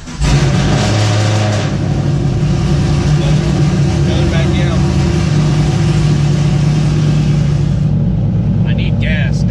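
A 2010-2015 Chevrolet Camaro engine fires up in a flat home garage and settles into a loud, steady idle with a deep low rumble, running continuously throughout, while a voice talks over it.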